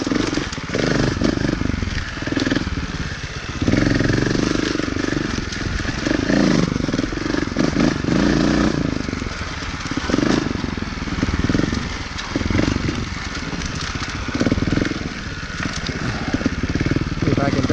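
A 2018 Beta Evo Factory 300 4T four-stroke trials motorcycle runs steadily in third gear on a muddy trail, its engine note rising and falling continuously and fairly close, with a rider's voice heard over it at times.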